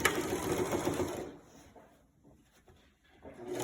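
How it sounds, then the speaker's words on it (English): A sewing machine stitching a skirt seam with a half-inch seam allowance, starting with a back stitch; it runs loud and close for about a second, then stops into quiet. "And start sewing this with 1/2 inch seam allowance. Remember to start with back stitch"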